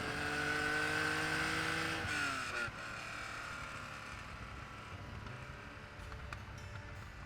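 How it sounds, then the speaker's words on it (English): Raspy flat-six of a 1965 Brumos Porsche 911 pulling through the gears on a canyon road, a loud rising engine note that drops at a shift and settles into a steady, slightly echoing drone. "the 911, and the sound of that raspy motor bouncing off those canyon walls"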